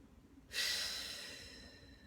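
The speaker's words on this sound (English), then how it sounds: "So let's just take a few breaths" A single forceful breath: quiet for half a second, then a sudden loud, breathy rush of air that slowly fades over the next second and a half, close to the listener, with no talk.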